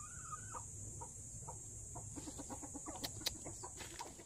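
Several chickens, including a drinking hen, cluck softly in short bursts nearby, with a steady high insect-like whine in the background and no talking.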